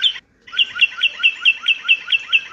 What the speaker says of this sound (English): Like birds chanting.